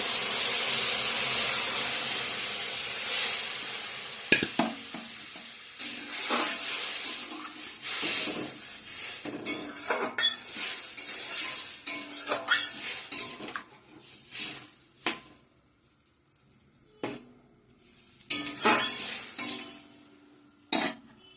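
Water hits a hot sizzling pan with a loud initial hiss that slowly fades, followed by repeated clinks and scrapes of a spoon stirring against the metal, close by and irregular, with no voices.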